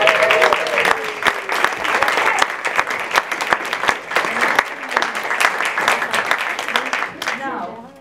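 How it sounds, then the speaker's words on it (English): Warm, sustained applause from a workshop audience in a hall, many hands clapping loudly and evenly for nearly the whole stretch, with a voice briefly heard at the start and again as it dies down. "Give him a warm round of applause."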